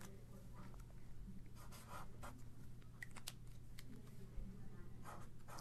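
Pen scratching by hand across paper while trigonometry notes are written: a faint close-up run of short scratchy strokes and taps in a quiet room, steady and irregular.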